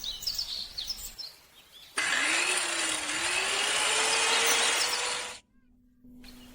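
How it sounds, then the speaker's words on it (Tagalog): An electric saw running steadily and loudly for about three and a half seconds, its pitch rising slightly as it cuts, then cutting off abruptly; a fainter hum follows at the end. "tawag dito ay electric saw"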